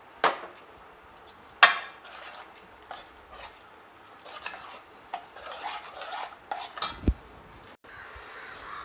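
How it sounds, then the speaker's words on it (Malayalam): Rava idli batter is stirred with added water in a metal vessel, giving irregular close scraping and knocking of a spoon against the bowl, with sharper clanks scattered through. "കുറച്ചൊഴിച്ചുകൊടുത്ത് നമുക്ക് കലക്കിയെടുക്കാം."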